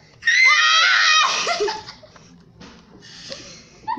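A loud, high, wavering scream bursts out near the start, breaking into shrieking laughter before trailing off into quieter voices, recorded during a Minecraft gaming session.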